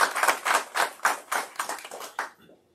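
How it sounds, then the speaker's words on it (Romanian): Applause at a live fundraising broadcast for children with disabilities: a brief burst of bright, rhythmic hand claps in even beats, moderately close, fading out after about two and a half seconds. "Să-i aplaudăm!"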